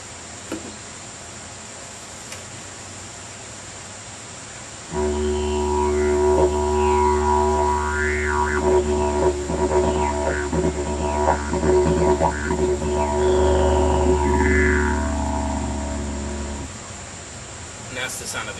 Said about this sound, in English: Now this last didgeridoo is made out of agave cactus.